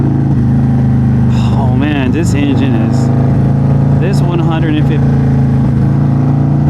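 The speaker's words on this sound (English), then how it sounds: "153 cubic inch engine just sounds amazing, perfect." A 153 cubic inch, 200 horsepower motorcycle engine drones loudly and steadily with a deep rumble on a downhill ride at Sturgis, while someone talks over it.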